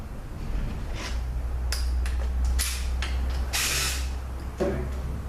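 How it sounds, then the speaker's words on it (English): Mechanical clicks, scrapes and a low hum come from the pump and drums being pulled out of a 62TE automatic transmission with about 500,000 miles on it, in short irregular bursts of metal contact and no talk. "let's pull the pump and drums out"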